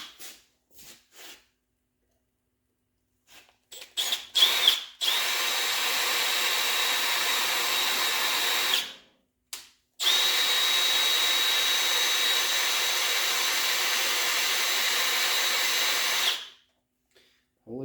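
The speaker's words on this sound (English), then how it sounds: "this drill bit is dull" A power drill with a dull bit whines at high speed while boring into metal on a Ford 4400 tractor, with short bursts at the start and then two long, steady runs separated by a brief pause.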